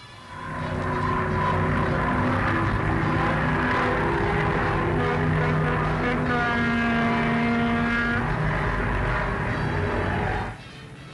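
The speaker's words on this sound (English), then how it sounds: "Listen to the triumphant sound of the engines as they roar past." Loud, sustained roar of the 1938 Short Mayo Composite's propeller engines with a shifting drone as the aircraft pass close by, then cutting off abruptly near the end.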